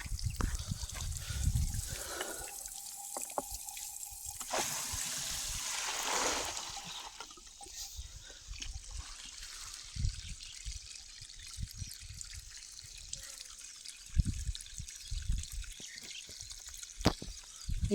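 Water trickling and running from an irrigation pipe on a sugarcane farm after a valve is opened, a faint, steady flow with occasional drips and bumps, heard alone at low level.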